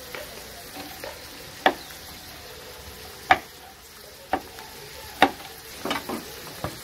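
Red bell pepper frying in the sauce base for a Peruvian parihuela seafood stew, with a soft, steady sizzle and several sharp stirring clacks of a utensil against the pan at irregular intervals.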